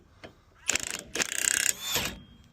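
Impact gun tightening the tow ball on a Ford Transit Custom towbar, giving two short loud rattling bursts of rapid hammering followed by a fainter whir.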